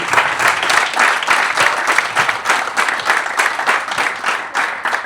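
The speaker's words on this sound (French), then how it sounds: "On peut applaudir." A room full of people claps together in sustained, dense applause at a 60th-anniversary reception, loud and even throughout with no voices standing out.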